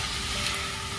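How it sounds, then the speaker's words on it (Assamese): Meat roasting on a stick over a fire, fat dripping and crackling in a steady, close, continuous sizzle with no pauses. "মাংস পুৰা তেল ওলাই গৈছে, পুৰা তেল ওলাইছে"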